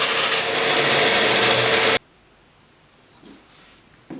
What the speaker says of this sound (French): Un serrage et de nouveau un calibrage avec la défonceuse, outil vraiment indispensable